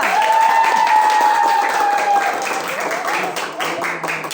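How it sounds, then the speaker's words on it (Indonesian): Audience applause and cheering for the winning team at a final-round competition, a dense, steady wash of clapping mixed with crowd noise and a bright sustained tone, loud throughout and easing slightly toward the end. "Mana tepuk tangannya?"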